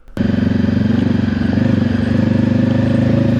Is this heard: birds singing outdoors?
no